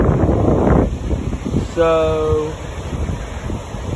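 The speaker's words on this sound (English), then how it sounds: "And it's really windy. And the waves are pretty rough out there." Strong wind buffets the microphone at a South Carolina beach, with rough ocean waves roaring steadily underneath and a person briefly speaking.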